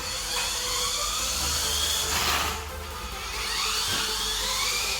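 Tiny FPV RC car's electric motor at full throttle, a continuous high-pitched whine that rises and falls in pitch as it speeds up and slows, heard up close with no talking.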